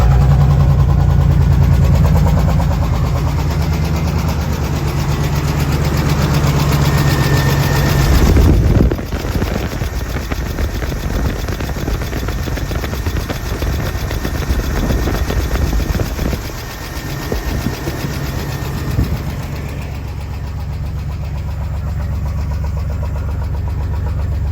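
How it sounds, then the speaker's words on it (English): A 2001 Chevrolet S10 pickup with a 4.3 V6 and a nearly straight-through exhaust cranks and fires up. It then runs loud and rough close by, with a steady idle rumble and a few blips. "let me give it a fire up, and I'll show you. You're not gonna be able to hear me because the truck's pretty loud."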